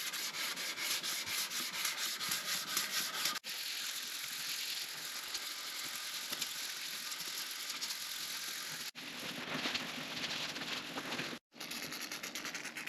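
A cast iron planer table being hand sanded with 600 grit sandpaper: a steady, close, continuous scratchy rubbing that runs almost unbroken with a few short breaks, and no one speaks.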